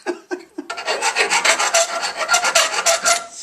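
A hand file rasps rapidly across metal hoops on a rat-rod trailer project, a few short strokes and then a fast, steady run of close, loud scraping strokes.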